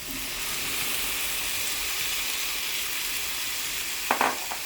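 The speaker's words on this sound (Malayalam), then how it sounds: "ഇനി നമുക്ക് ഇറച്ചി ഇതിലേക്ക് ചേർത്ത് ഇളക്കാം" Pre-cooked beef is stirred as it fries in a hot pan, a constant loud hiss and sizzle with a couple of sharp spatula knocks near the end.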